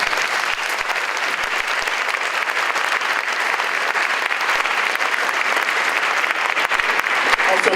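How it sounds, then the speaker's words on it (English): Sustained round of applause from a conference audience at a school superintendents' equity event, dense and steady clapping filling the room for several seconds without a break. "I'd like to give the panelists one more round of applause."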